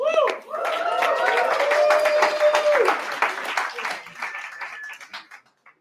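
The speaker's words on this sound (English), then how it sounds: "Give Lana a round of applause." A live coaching training audience gives a round of applause for a participant named Lana, steady dense clapping spread over several seconds beneath ongoing talk and a few tonal sounds, fading out toward the end.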